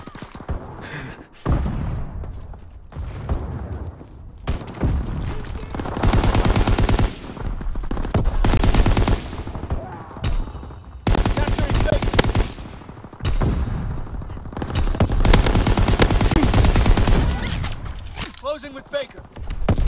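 Loud, sustained machine-gun and rifle fire pounds through a Call of Duty WWII multiplayer battle, bursts nearly continuous with brief lulls, mixed with shouted voices and battlefield thuds.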